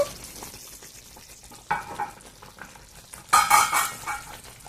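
Brinjal masala curry sizzles in oil while being stirred, with a soft steady frying hiss broken by sharper scraping stirs and a louder burst of sizzling near the end.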